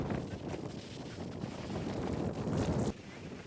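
Strong wind gusts across an outdoor cricket ground during a local tournament, making a steady, rough roar and rumble that fills the clip and eases off near the end.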